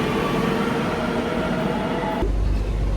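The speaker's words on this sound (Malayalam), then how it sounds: "നമ്മൾ ഇപ്രാവശ്യം മെട്രോയിൽ കയറി." Inside a Kochi Metro train in Kerala, a steady loud rumble of the moving carriage fills the whole stretch, with a sudden shift to a deeper low roar partway through as the train runs on.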